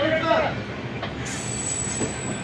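Train 09022 Brahmapur–Udhna on its inaugural run rolls into Srikakulam station, a steady rumble of rail noise with a high wheel squeal that rises partway through and holds, under brief faint voices.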